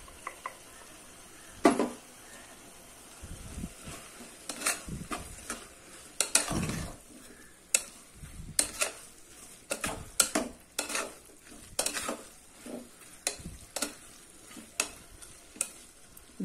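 Vegetables and masala powder being stirred and fried in a pan, with a steady sizzle under repeated scraping and clattering strokes of a spoon against the metal, loud and close.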